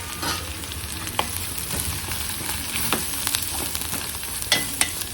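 Garlic with masala, turmeric and asafoetida sizzles loudly in hot oil in a pan, with steady crackling broken by scraping stirs of a spoon.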